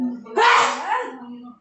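A single close, loud sneeze bursting out sharply and trailing off into a voiced tail.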